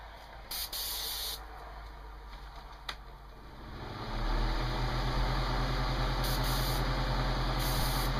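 A Harbor Freight airbrush sprays acrylic paint with the airflow switched on, a steady hiss that starts partway through and then holds loud and continuous, with a few short bursts of hissing air before it.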